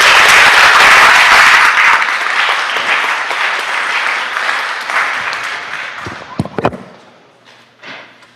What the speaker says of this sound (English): So everybody give Sadie a good round of applause.